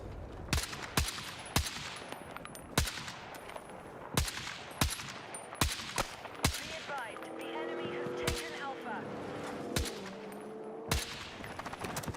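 EF-88 rifle gunfire in the video game Battlefield 6: loud, close bursts of sharp shots in an irregular rhythm, with short pauses and a stretch of background game noise and chatter in the middle.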